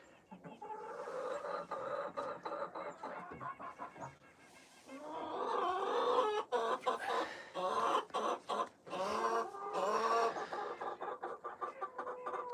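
Several Rhode Island Red hens, preparing to lay, cluck and squawk close by, loud bursts of bird calls overlapping in an irregular rhythm, with quieter stretches between.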